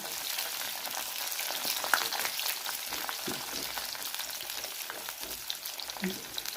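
Cut pieces fry in a pan, giving a continuous crackling sizzle with scattered pops and a few stirring scrapes, close and steady, with no talking.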